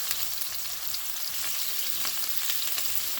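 Low-carb keto meatballs brown in a pan with a steady, even sizzle of frying fat, moderately loud and unbroken, with no voices over it.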